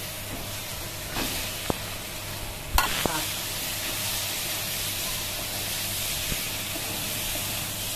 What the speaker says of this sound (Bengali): ধোকাগুলো দিয়ে একটু কষিয়ে নেবো।